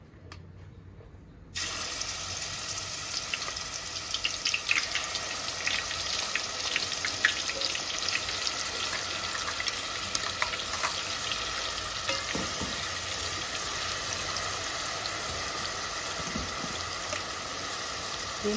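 Ground onion paste frying in hot oil for a fish curry, a steady dense crackle that starts abruptly after a brief quiet moment and continues loud and even throughout, close up with no talking.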